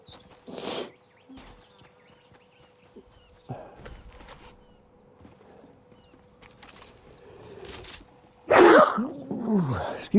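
A person sneezes loudly and close to the microphone near the end, after a stretch of faint background sounds and light footsteps in the Fortnite video game.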